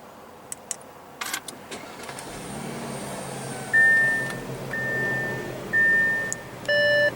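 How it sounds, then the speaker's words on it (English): A 2016 Audi A7 with a 3.0-liter supercharged V6 starts from a push-button: a few clicks, then the engine catches into a steady low idle while several sharp electronic chime beeps sound over it. No one speaks. "what you're hearing there is a 3-liter supercharged V6"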